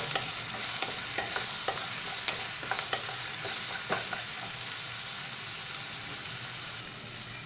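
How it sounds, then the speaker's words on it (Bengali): Ginger paste and dal grains fry in a pan with oil for lemon rice, a steady close sizzle broken by repeated scraping clicks of a spatula stirring, the stirring stopping partway through while the sizzle continues. "এখন এগুলোকে ভালো করে একটু ভেজে নেব"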